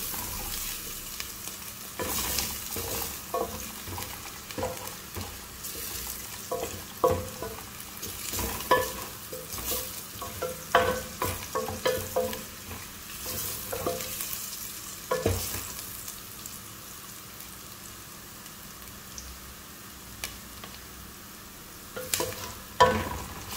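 Chicken for chicken Manchurian sizzles in a pan while a spatula scrapes and knocks against the metal in irregular bursts over a steady frying hiss, heard up close with no speech.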